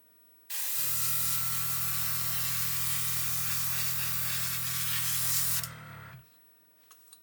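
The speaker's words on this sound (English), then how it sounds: "you might be able to hear a buzz in the background. That's the waterfall on" A steady, loud mechanical buzz from a spray booth's waterfall, with a broad hiss on top, runs for several seconds, then cuts off abruptly, leaving near silence.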